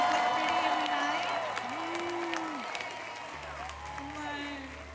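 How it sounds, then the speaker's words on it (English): Concert crowd in Los Angeles applauding and cheering continuously, a broad roar of clapping with whoops, while a voice speaks over a sound system and a low musical tone hums underneath. "And I want to ask for applause for our hair, makeup, and stylist team who make us look pretty every night."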